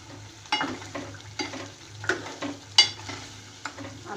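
Cauliflower pieces fry with beef in a pot, sizzling steadily while a spoon stirs them in repeated scraping strokes, close and clear with no talking.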